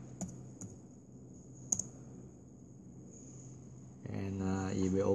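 A few sharp clicks of keys tapped on a computer keyboard, sparse and close, with a steady faint hum beneath and a voice starting to talk near the end.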